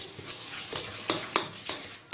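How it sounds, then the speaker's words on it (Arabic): A spoon stirs dry flour, salt and baking powder together in a bowl for a cake batter, making soft scraping strokes with a few brighter scuffs, quiet and close with no talking. "هجيب الاول المكونات الجافه اللي هي كوبايه الدقيق على رشه الملح، وهحط عليها البيكنج باودر كيس كامل زي ما قلت، وهقلبهم كده مع بعض الاول."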